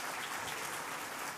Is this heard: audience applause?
yes